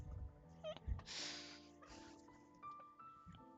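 A house cat meowing a few times nearby over a steady background of music, with brief murmuring in the room.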